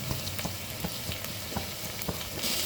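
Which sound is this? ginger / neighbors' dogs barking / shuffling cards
ginger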